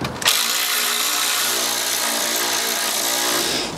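A power drill drives screws back in while reinstalling a BMW radiator, one continuous loud whirring run close up with no talking.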